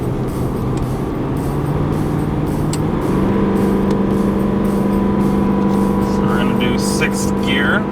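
A 2020 Ford F-450 Super Duty King Ranch with a 10-speed transmission, engine braking downhill while towing a 26,000-pound trailer, with a steady loud drone whose pitch steps up partway through, heard from inside the cab.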